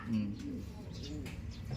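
A pigeon coos a few low, soft calls close by, with a faint voice underneath.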